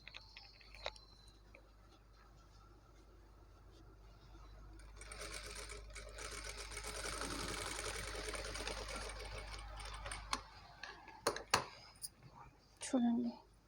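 Sewing machine stitching a beaded maggam work blouse, a quiet run of rapid needle clatter that swells and fades in the middle, followed by a few sharp clicks and handling taps, with someone speaking softly.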